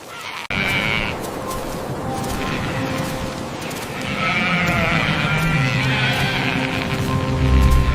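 Animal calls ring out across an open pastoral setting, with sheep bleating among what sounds like horse whinnies, several overlapping cries standing out over a steady background bed that grows louder toward the end.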